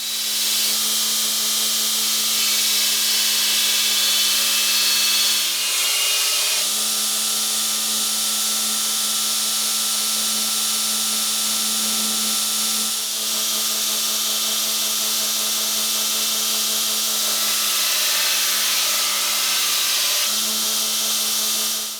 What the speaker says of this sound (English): with good sharp belts and the 2 horsepower sander, it made relatively quick work of it